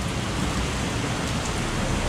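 Steady rain falling outdoors at night around a 2006 Proton Savvy 1.2L, a constant even hiss with no breaks, nearby and moderately loud, no voices.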